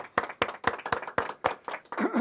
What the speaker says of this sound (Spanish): doble aplauso para ustedes